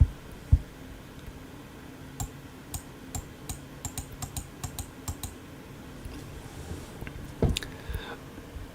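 A puppy chewing and tearing at grass outdoors makes a run of small, sharp crunching bites and clicks. They come in quick uneven bursts, close and distinct, over a steady low background hum.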